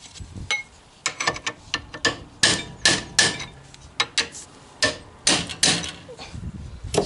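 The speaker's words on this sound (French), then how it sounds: "quelques coups de marteau sur les leviers" Hammer blows on the rusted suspension levers of a Citroën Traction 11 B during a workshop repair: a rapid series of loud, close metallic strikes in irregular bursts, each ringing briefly, with no talk.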